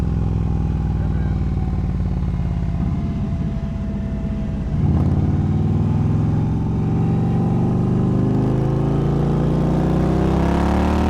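Indian Challenger motorcycle exhaust rumbles loudly on a racetrack at Barber Motorsports, then revs up with rising pitch as the bike accelerates, the throaty pipes close and dominant.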